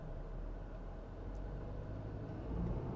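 A Ford Bronco Sport pulls away from a full stop uphill on an icy winter road with light throttle. The engine gives a low, steady rumble from inside the cabin that swells slightly near the end.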